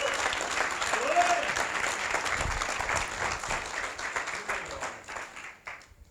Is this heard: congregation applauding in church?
yes